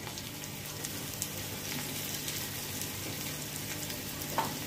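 Cumin and asafoetida hitting hot oil for a dal tadka give a steady, close crackling sizzle that holds evenly throughout, with no voices.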